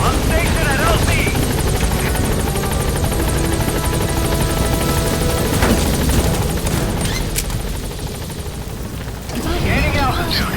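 A helicopter in Metal Gear Solid V comes in to a landing zone, its loud rotor thrum and engine roar filling the scene continuously, with a radio-style voice speaking over it.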